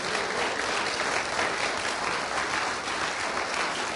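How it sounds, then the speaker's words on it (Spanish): A church congregation applauding loudly for the Lord during a sermon, dense sustained clapping from many hands, steady and close for several seconds. "Dale el aplauso fuerte al Señor."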